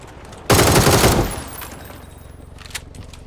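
A sudden burst of rapid gunfire, loud and sustained for under a second, then fading into a quieter, muffled background with a faint click later.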